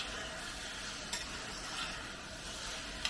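Chopped onions sizzle over medium-high heat and are stirred steadily in a pan for a lamb liver and heart curry. A continuous close frying hiss is broken by a couple of faint utensil taps.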